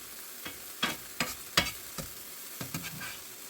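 Food cooking in an oiled Smithey Farmhouse cast iron skillet over lowered heat gives a soft background sizzle broken by several sharp scraping and stirring clicks spaced about half a second apart, close and fairly quiet.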